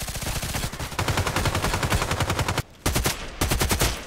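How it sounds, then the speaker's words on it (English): Rapid automatic fire from an AK-12 assault rifle in the shooter game Contract Wars, loud sustained bursts of sharp shots with a short pause and then two more quick bursts. "If I shoot, the first four shots are not increasing the aim."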